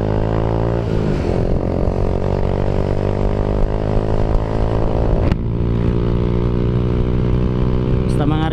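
A Raider J115 Fi motorcycle on its standard stock exhaust idles and revs close by, a loud steady engine drone with a couple of sharp throttle blips, and people talking over it.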